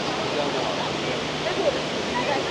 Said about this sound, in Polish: Pod samym wodospadem.